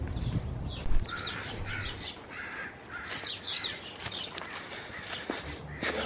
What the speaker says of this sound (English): Lots and lots of birds chirping away.